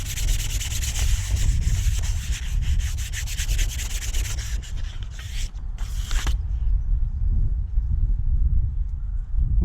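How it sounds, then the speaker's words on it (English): Rusty brake discs being hand-sanded and keyed before painting, a steady close scratchy rubbing with repeated back-and-forth strokes that stops abruptly partway through, leaving quieter low background noise. "That's all the discs sanded up and keyed up now"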